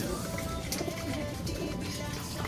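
Pigeons cooing softly, close by, amid a busy background of fluttering and shuffling noise.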